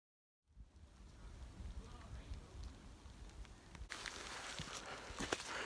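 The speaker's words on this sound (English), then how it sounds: "It's raining." Rain falls steadily on a mountain trail, a continuous soft hiss that grows denser and louder partway through, with light rustling and occasional small knocks nearby.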